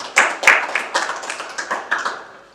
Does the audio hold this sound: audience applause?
yes